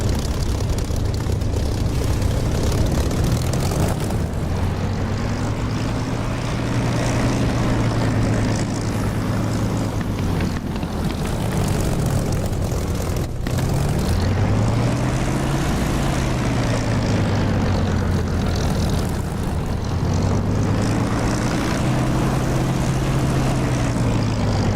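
Propeller aircraft engine droning steadily in the DCS flight simulator game, a continuous loud hum whose pitch slowly swells and dips in repeated waves over about twenty-five seconds, without speech.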